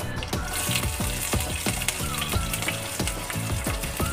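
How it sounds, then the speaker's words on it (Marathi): Green chilies dropped into hot oil already crackling with cumin, mustard seeds and curry leaves for a dhaba-style sev bhaji tempering: a loud, close, continuous sizzle broken by regular scraping stirs of the pan, with no voices. "इथे मी गरम तेलामध्ये जिरे मोहरी कढीपत्त्याची पाने तेलामध्ये फोडणीसाठी टाकून घेतलेली आहेत।"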